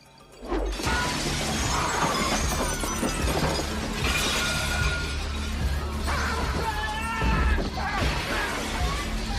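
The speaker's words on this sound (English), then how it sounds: "there's a man with an axe who approaches, smashes the window" An axe smashes a window in a film scene, a loud crash of shattering glass followed by tinkling shards and further breaking impacts under a dramatic score, with a brief voice in the mix.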